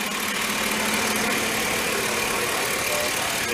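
A Chevrolet Silverado truck engine runs steadily at idle, a constant close rumble with a broad hiss over it and no change in pace.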